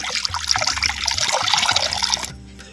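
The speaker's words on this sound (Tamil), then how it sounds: "தேவையான பச்சை தண்ணி அரை லிட்டர் சேர்த்துக்கிறேன்" Half a litre of plain water poured into a pot for cooking toor dal, a steady splashing, trickling pour close by that runs for about two seconds and then stops abruptly.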